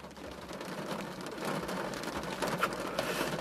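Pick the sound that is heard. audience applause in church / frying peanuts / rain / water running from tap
rain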